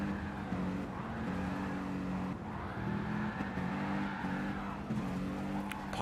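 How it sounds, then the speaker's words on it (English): Engine of a Toyota Tundra truck drifting in a race, a loud sustained drone whose pitch rises and falls repeatedly as the throttle works, with tire noise throughout. "Potter trying to test the drift capabilities of that great big Tundra"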